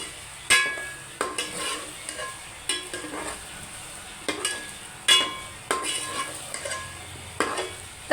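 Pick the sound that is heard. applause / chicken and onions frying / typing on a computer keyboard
chicken and onions frying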